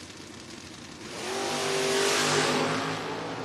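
Drag racing cars, a 1978 Firebird and a 1979 Camaro, launch at a door wars event, their engines surging into a loud, rising rev after a second of idle rumble, then holding and easing slightly.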